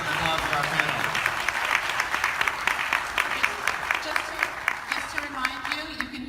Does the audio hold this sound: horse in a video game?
no